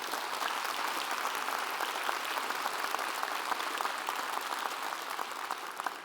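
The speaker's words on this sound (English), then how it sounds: "Let's give him another round of applause." Steady applause from a school-district audience at the State of the Schools 2025 event, a dense, even clatter of many hands sustained throughout with no pauses.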